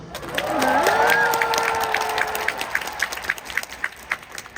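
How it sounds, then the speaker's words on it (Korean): Concert audience on the second night of DREAMSHOW 3, a loud crowd roar with sustained high cheering that fades into scattered, uneven clapping over the last seconds. "박수 한번 주세요"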